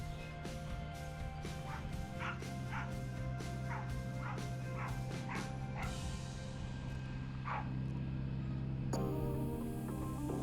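An excited dog running around outdoors barks and yips in a quick, repeated series of short calls over a steady low hum.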